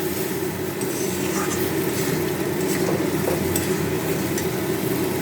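Duck eggs stir-fried in spices for a curry, a loud steady sizzle with scraping and stirring against the pan, continuous and close with no talking.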